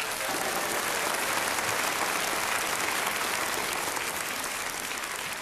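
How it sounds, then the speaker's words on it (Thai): Dense, loud audience applause at a Thai concert fills the whole stretch as a steady, unbroken wash of clapping from a large crowd. "ท่านผู้ชมครับขอเสียงปรบมือ"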